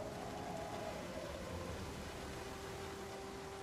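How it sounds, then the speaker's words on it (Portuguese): Rain falling in the survival game Project Zomboid, a soft, even hiss of steady rainfall with a faint tonal hum beneath, quiet and unbroken with no talk. "Tá chovendo"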